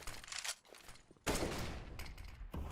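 Counter-Strike gunfire at an ESL One Major match between Contact Gaming and Movistar Riders, with an AWP sniper headshot: a loud, sharp blast arriving mid-clip and a second shot near the end, over a dense, busy game backdrop.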